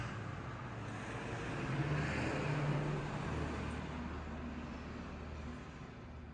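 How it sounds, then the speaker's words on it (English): A truck passes on a nearby road, a broad rumbling roar that swells in the middle and slowly fades, steady and moderately loud with no talk. "Excuse this truck about to pass."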